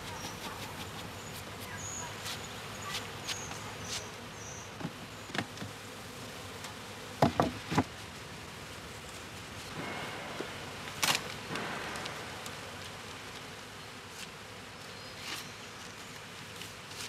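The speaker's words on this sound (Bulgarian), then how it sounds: "Цялата работа е свършена, когато и последните пчели са отстранени с четката от последните медови пити." Honey bees buzz around a multi-box Langstroth-Root beehive while frames of honeycomb are brushed clear, a soft, continuous hum broken by scattered clicks and brief louder knocks.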